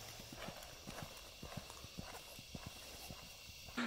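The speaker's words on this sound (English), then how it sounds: "First ride out here in the arena." Horse hooves clip-clop at a steady walking rhythm on the footing of a 70 by 100 sand arena, close and clear, with a louder thump at the very end.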